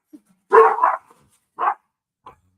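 Archie the dog barks indoors during a severe thunderstorm, giving a double bark, then a single bark, then a faint short yip, each sharp and fairly close with silence between.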